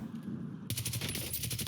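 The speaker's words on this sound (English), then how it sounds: "the guy on the left just heard the gunshots" Gunfire in Call of Duty Warzone: a quiet stretch erupts into dense, rapid automatic bursts that keep rattling steadily to the end, loud and close.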